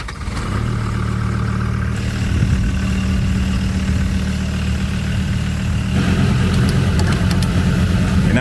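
A turbocharged car engine idles and then revs under boost, a close, steady mid-to-low mechanical drone with a change in engine note partway through.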